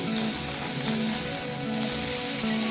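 Radish pieces lightly frying in a pan, a steady even sizzle with faint stirring scrapes and a recurring low hum in the background, no voices.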